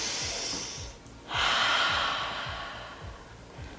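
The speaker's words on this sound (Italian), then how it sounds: "30 secondi di respirazione profonda." Deep breathing during a pregnancy exercise stretch: slow, close inhales and exhales, a long airy exhale after a brief pause, with soft rhythmic low thumps beneath.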